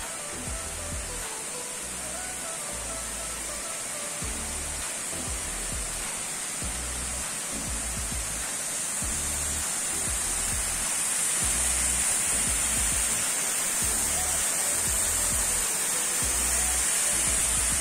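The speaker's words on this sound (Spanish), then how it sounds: "Y llegamos a la última cascada, la cascada número 10." Waterfall at Las Cascadas Paraíso in Puebla, a continuous broadband roar of falling water that stays steady and full, swelling slightly louder toward the end, with no voices.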